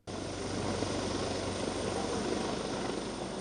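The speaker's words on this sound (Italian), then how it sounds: "Lo fanno dall'alto con l'elicottero" A helicopter searches over a lake, its rotor and engine giving a loud, continuous droning roar that holds steady throughout.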